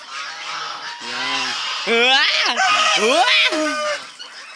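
Loud, close honking from a group of geese, harsh repeated calls overlapping, with a voice briefly heard among them.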